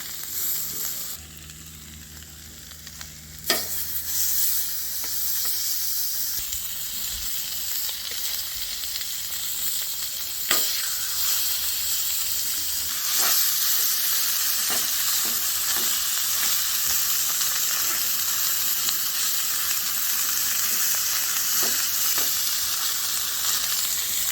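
Chorizo fries in oil on a flat griddle, giving a steady loud sizzle for the whole stretch, broken by a few sharp spatula scrapes and taps.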